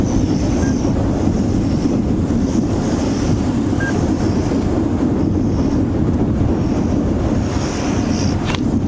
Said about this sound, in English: Almost a gale force wind coming in from the south now.